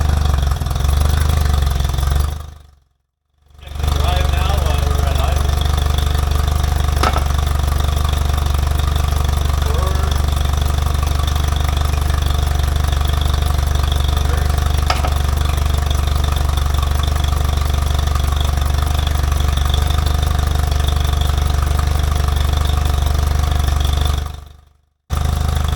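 A boat motor runs steadily through startup checks, a constant loud engine drone with two brief dropouts where the sound cuts out, no talk over it.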